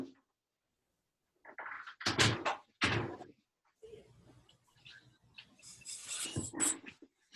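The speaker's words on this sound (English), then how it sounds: "I'm going to close my door." A home door being shut, with handling noise, a couple of solid thumps and latch clicks, and a rattling movement near the end, in a quiet room with a voice briefly audible.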